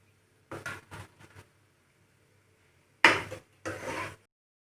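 A utensil scoops fried fish out of hot oil while a fish pickle is prepared, giving a few quick clattering knocks, then two louder scraping scoops against the pan, with silence between.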